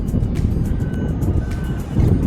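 A low, steady rumble of distant engines and traffic around a harbour, broad and continuous, with faint clanks and ticks scattered on top.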